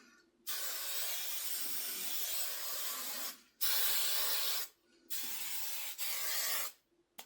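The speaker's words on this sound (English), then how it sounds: "Hair is done. Let's give it a little spray." Four long bursts of hairspray hissing close by onto hair, each lasting one to three seconds with brief pauses between.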